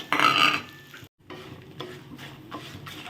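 Dried red chillies, cumin and garlic roasting in a pan, a brief loud hiss followed by intermittent scraping strokes of a spatula, close and fairly quiet, with no talk.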